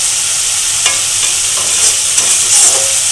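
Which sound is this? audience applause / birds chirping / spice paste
spice paste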